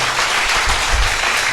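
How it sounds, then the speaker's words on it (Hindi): An audience applauds with a dense, steady wash of many hands clapping, loud and sustained throughout, with no talk over it. "ताली बजनी चाहिए फिर से"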